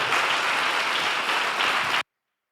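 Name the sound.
congregation applause at Christmas service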